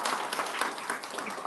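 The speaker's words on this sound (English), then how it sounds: "please give a round of applause for her" An audience at a human rights seminar in Amsterdam applauds, a steady, fairly faint patter of many hands clapping together for about a second and a half, with no voices on top.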